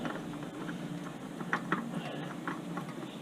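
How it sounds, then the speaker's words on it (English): A preset torque wrench ratchets as it tightens the oil filter on a Kawasaki Ninja ZX-14R, giving a few soft, close clicks over steady background noise. "Torque wrench has already been preset. 13 foot-pounds for the oil filter."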